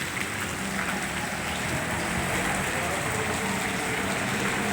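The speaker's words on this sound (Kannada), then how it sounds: "ಹಿಂಗೆ ಹರ್ಕೊಂಡು ಹೋಗ್ತಾ ಇದೆ ನೀರು" Steady rainwater streams and rushes along in heavy rain, a continuous broadband wash of flowing water and pattering drops with no pauses, fairly loud and close throughout.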